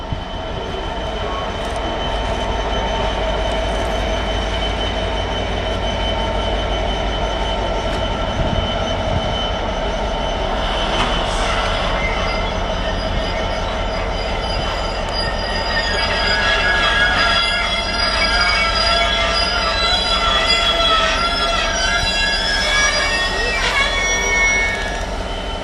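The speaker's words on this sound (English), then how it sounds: "Well, the trains are going north are running late, so we're copping a freight here." A double-headed freight train with two locomotives passes the station platform at Barnetby, a steady loud rumble of engines and rolling wagons with wheel squeal rising midway, continuous throughout.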